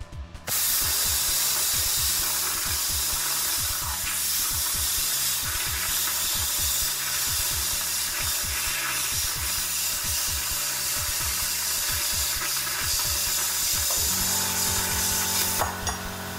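A Daiden CUT 45 plasma cutter slices through thick steel plate up to 20 mm, giving a loud, continuous hiss and crackle for about thirteen seconds before the arc cuts off, leaving the air still hissing.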